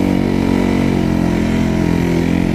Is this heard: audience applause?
no